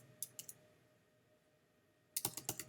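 Typing on a computer keyboard: a quick cluster of three keystrokes, a pause of near silence, then a faster run of about six clicks. The taps are close but quiet, and nobody speaks.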